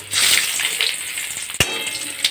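Fried cauliflower set into hot oil in a pan, sizzling loudly at first, then settling to a steadier fry with a sharp tap of a utensil midway.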